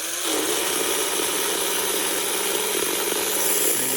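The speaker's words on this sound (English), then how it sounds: "Let's put this one on the dyno." An Auto World slot car chassis motor spins on a dyno, starting abruptly into a loud, steady high-pitched whine that holds evenly for several seconds before dipping slightly at the end.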